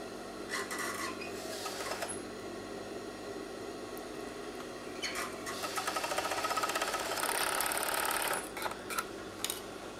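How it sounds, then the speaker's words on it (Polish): Sewing machine stitching the short leg openings of lace shorts with black thread, a steady mechanical whir running throughout that grows louder and busier in the second half, with brief pauses between bursts. "Jak zszyłam podkroje, to teraz zszywam te takie tutaj króciutkie nogaweczki."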